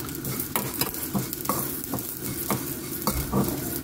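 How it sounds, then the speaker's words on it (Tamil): Black pepper and a cinnamon stick are sautéed in a pan over a low gas flame, with a steady close sizzle and repeated stirring scrapes at a regular rhythm, and no talk. "இதை நல்லா கருகாமல் வதக்கிடுங்க"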